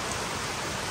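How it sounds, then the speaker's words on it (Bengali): Sudden unseasonal rain falls during a storm at an outdoor picnic, a steady, dense hiss of rain on surfaces that is soft and continuous throughout, with no talking. "আর মোটামুটি একটা হঠাৎ করে নেমে আসা অসময় বৃষ্টি"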